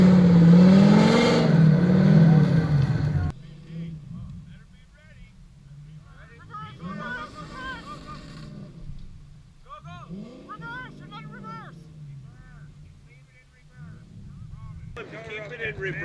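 Trucks rev hard for about three seconds, pulling a Ford Excursion stuck in snow, then drop to a low idle rumble while people talk over it.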